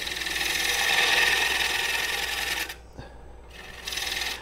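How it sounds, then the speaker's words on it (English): A tool makes a scraping pull cut on a green wood bowl spinning on a lathe, giving a continuous close hissing rasp that cuts off abruptly, then a brief quiet with a small knock before the rasp resumes. "I'm using that scraping cut again to remove this material. It's kind of a scraping pull cut."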